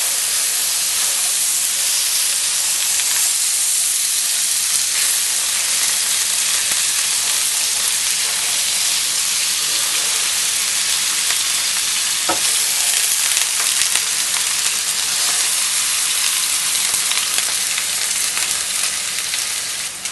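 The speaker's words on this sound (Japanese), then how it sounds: "半分に切った断面はちょっと焼きます。 切った断面を焼きます。" Cut sides of halved chashu pork searing in a hot pan, a loud, steady, dense sizzle and hiss that never lets up over twenty seconds, close up, with no talking.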